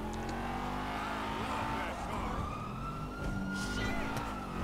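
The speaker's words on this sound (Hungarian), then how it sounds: "Hogy jön a rendőrautó?" Police car siren in GTA V, a rising and falling wail running steadily over game engine noise and traffic for the whole stretch, fairly loud and close.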